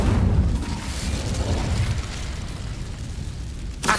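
An Incendio fire spell cast in Hogwarts Legacy, a loud rumbling whoosh of flame that bursts at the start and slowly fades over a few seconds, ending with a brief sharp crackle.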